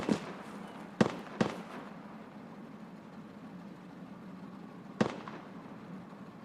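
Enemy gunfire in the video game Escape from Tarkov, PvE mode: a few sharp distant shots, two close together near the start and one more later, over steady low ambient rumble.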